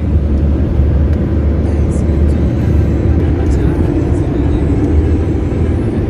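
Maruti Suzuki Alto 800 engine running smoothly after a service, a steady, loud low rumble with constant drone and no breaks, heard from inside the car.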